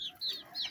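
A Rhode Island Red chicken gives two short, high clucks in quick succession, faint and fairly close.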